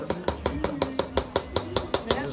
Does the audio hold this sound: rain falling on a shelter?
no